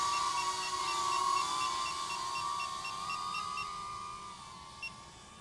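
DJI Neo 2 drone flying in normal mode, a steady high-pitched whine with hiss, fairly faint and continuous, easing slightly as it moves off, with a small click near the end.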